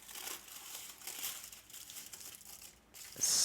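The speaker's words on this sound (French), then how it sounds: "Pour commencer, très proprement, voilà, enlevez l'alu." Aluminium foil wrapper peeled off and crinkled, a soft, quiet, continuous rustle close by, growing a little louder and sharper at the end.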